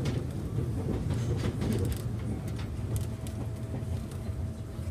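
Steady rumble and wheel clatter fill the cabin of a JR Nambu Line 205 series commuter train in motion, a continuous low drone with faint rhythmic clicks and no voices.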